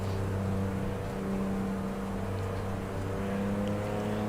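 A BMW CSL straight-six race car in the GT Legends racing game sends out a loud, steady engine drone with a constant low growl and no pauses.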